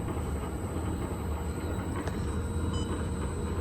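A vacuum reactor's mixer runs at 50 RPM. Its motor gives a continuous, even mechanical rumble with a faint high tone, close and steady, with no talk.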